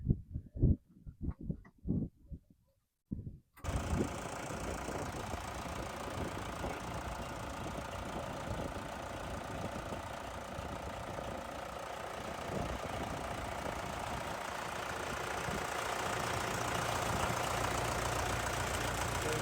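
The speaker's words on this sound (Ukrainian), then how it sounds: "А, я заведу двигуна." A new cab tractor with air conditioning, heard close up: a few seconds of clanking and knocking, then the engine catches and settles into a steady, even idle that runs for over fifteen seconds, swelling slightly near the end.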